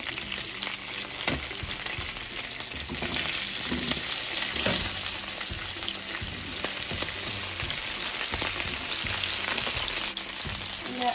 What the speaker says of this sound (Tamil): வெண்டிக்காய் கொஞ்சம் எண்ணெயில் வதங்கின பிறகு